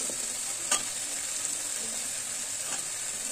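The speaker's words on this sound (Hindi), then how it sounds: "हम मसाले के साथ इसको भी थोड़ा सा और भून लेंगे" Eggplant and radish frying with spices in a pan over medium flame give a steady, quiet sizzle with a couple of brief stirring scrapes.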